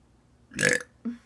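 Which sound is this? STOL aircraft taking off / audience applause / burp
burp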